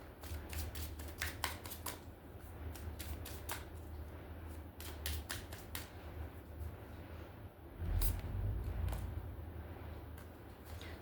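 Tarot cards being shuffled by hand, with a rapid series of crisp riffling snaps in bursts across the clip over a low room hum, close and fairly quiet, with no talk.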